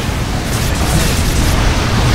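Explosive attack on a tower in a Dota 2 match, a thick rumbling barrage of booms and bursts running continuously and loudly with no voices over it.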